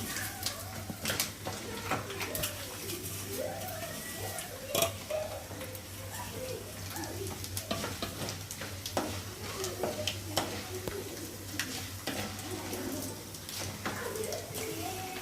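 Mustard seeds frying in hot oil for pulihora, a Telugu tamarind rice, giving a steady close crackle and sizzle with scattered sharp pops over a constant low hum.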